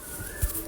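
Pakistani tiger pigeons give one short, soft, low coo, faint and close, against a quiet background.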